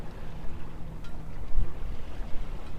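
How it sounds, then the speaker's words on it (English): Wind blows steadily across the bay, sweeping down onto a sailboat, heard as a continuous low rumble and buffeting with gusts swelling midway and near the end, no voices present. "The wind is coming straight over that knoll there and sweeps down across the bay to us."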